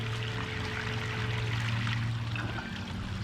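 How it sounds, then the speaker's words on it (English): A gold cube sluice runs steadily, water pouring and streaming over it to wash out lighter material, a continuous close rushing flow with a low hum underneath and no talk. "I'm going to let the gold cube run for a couple minutes to wash out some of the lighter materials"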